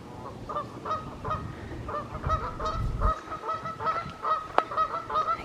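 Canada goose honking outdoors near water along a trail, a run of repeated loud honks in an uneven rhythm over faint background rumble.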